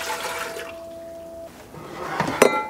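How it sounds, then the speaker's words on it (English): Warm water poured into a mixer bowl, a running, splashing flow under a steady tone, followed by clinks and handling noises as the pour ends. "we're gonna start with 4 cups of warm water"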